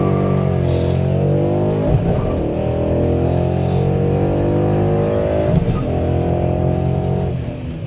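A 2011-2014 Ford Mustang engine runs loud and close, revving and climbing in pitch, dropping briefly twice as gears shift through a short throw shifter, then pulling again.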